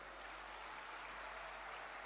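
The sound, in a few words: audience applause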